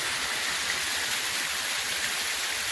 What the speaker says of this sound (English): I'm a little right below this waterfall